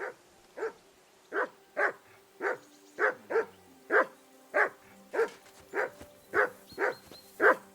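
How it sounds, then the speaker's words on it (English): In a medieval video game, a dog barks in a steady, regular rhythm, about a dozen evenly spaced woofs, moderately close with nothing else in the background. "I assume you can hear that damn dog of yours barking."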